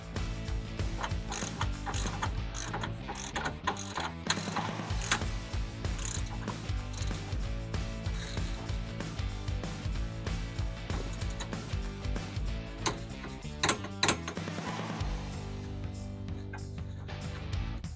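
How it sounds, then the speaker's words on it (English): Torque wrench ratcheting bolts on a Polaris Ranger 1000 during control arm replacement, a continuous fast clicking ratchet rhythm close up, with a few louder clunks near the end, no voices. "Let's go ahead and set the torque wrench to 30 foot-pounds."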